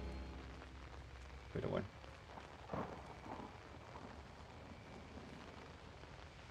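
Steady rain falls in the horror game Outlast, a soft continuous hiss spread evenly through the scene, with a couple of brief louder thumps and someone briefly speaking over it.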